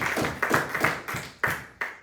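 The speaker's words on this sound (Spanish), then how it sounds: "Dele un aplauso a Cristo." A church congregation claps through a short burst of applause, a handful of uneven, fairly close claps that fade between beats rather than a dense ovation.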